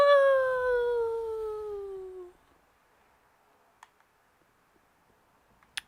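A long, loud, descending scream from the video game Dark Souls 3, howl-like with stacked harmonics, slides downward for about two seconds and then cuts off, leaving near silence broken by two faint clicks.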